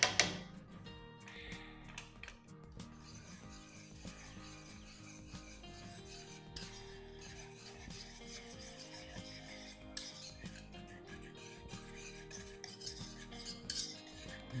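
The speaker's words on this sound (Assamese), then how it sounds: "ভালদৰে ৰাইতাটো ফেটি ল'ব" A spoon beats boondi raita in a bowl, making soft, continuous scraping and clinking strokes close by, faint throughout.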